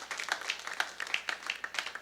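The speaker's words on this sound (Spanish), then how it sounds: "Den un aplauso fuerte a nuestro Dios." A church congregation claps together in praise, a brisk, fairly even burst of applause from a crowd heard at a moderate distance.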